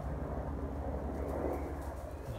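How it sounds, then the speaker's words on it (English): Distant helicopter passing over woodland near a naval air base, a faint broad rumble that swells slightly and stays steady throughout, with no voices. "As you can hear that, that's a helicopter."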